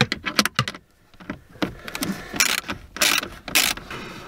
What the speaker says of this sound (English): We'll take these bolts out, we'll bring this ahead, and we'll have enough room to access what we need. So, two 7mm, or 7mm socket.